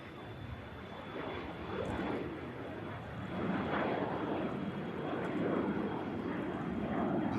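An airliner climbs away after takeoff from Manchester Airport, bound for Amsterdam, as a faint, distant rumble that gradually strengthens, with a thin steady whine running throughout.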